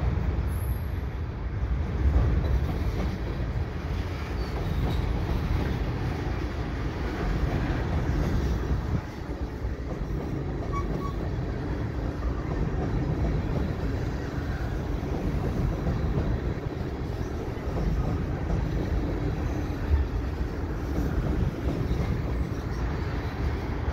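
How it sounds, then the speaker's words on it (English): Slow freight train of box cars and gondolas rumbling steadily across a bridge over the Lachine Canal, a continuous deep, heavy rolling roar close by with no voices. "the trains have to rumble slow here"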